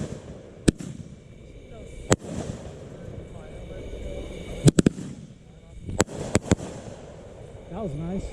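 A fireworks display on a private property: sharp, booming bursts, some single and some in quick clusters, echoing across open ground at a moderate distance, while onlookers chat and react between the blasts.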